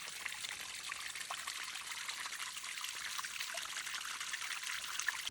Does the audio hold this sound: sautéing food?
no